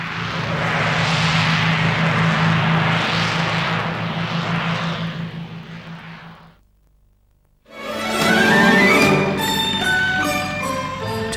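A de Havilland Chipmunk trainer aircraft flies past, its propeller engine droning loudly then fading to near silence before a second loud roar cuts in.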